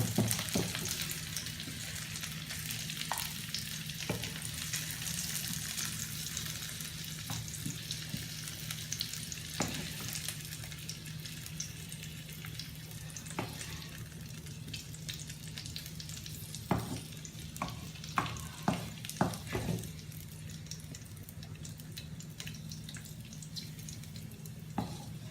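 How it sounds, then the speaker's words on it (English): Steady sizzling of vegetables frying in a pan for kadhai paneer, a continuous hiss with occasional clicks and stirring scrapes, close and moderately quiet. "We will fry our vegetables to make them tasty."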